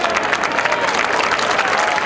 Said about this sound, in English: Nice round of applause you can hear in the background for the local kid as he comes off the field